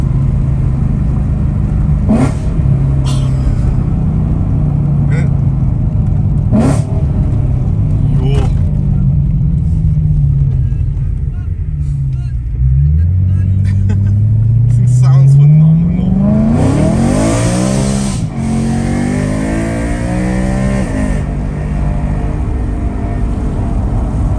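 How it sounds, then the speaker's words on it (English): A BMW E92 M3 engine revs hard from inside the car with the window down, a loud low rumble that climbs in pitch, sweeps up sharply near the end, then settles, with occasional voice over it. "Just roll the window down so you just hear this quickly a little bit."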